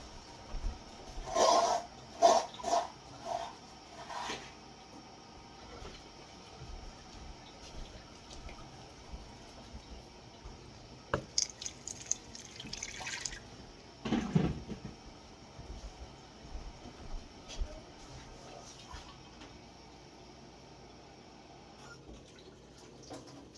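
Warm, steaming water poured into a measuring cup while baking, heard as a few short splashing pours near the start and middle, with quieter trickles and pauses between.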